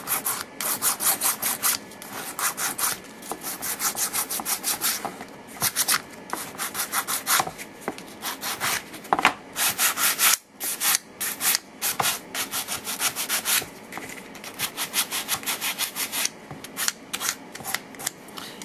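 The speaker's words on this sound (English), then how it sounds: "so it's time to sand this one off. Get it pretty smooth." Steady back-and-forth scraping of sandpaper on a painted wooden miniature chair, close and continuous, with rapid rhythmic strokes and a few brief pauses.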